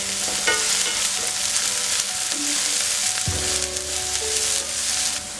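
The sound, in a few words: onions frying in a pan for eggplant potato curry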